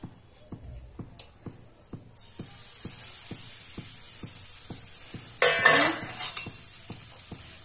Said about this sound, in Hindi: मैं इसको देसी घी में भून रही हूँ